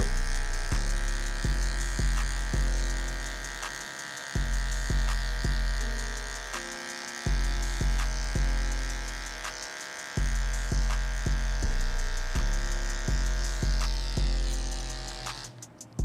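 Detachable-blade hair clippers fitted with a 1/8 blade buzz steadily while cutting a 360 waver taper, the motor tone dipping briefly with each pass through the hair in a repeating rhythm, close and alone.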